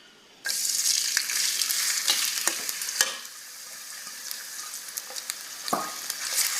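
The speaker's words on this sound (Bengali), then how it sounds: "এখন পেঁয়াজটাকে আমি ব্রাউন কালার করে ভেজে নেব।" Chopped onions, with cinnamon and cardamom, hit hot oil and burst into a loud, steady sizzle that settles slightly, broken by occasional sharp spatula scrapes as they fry toward brown.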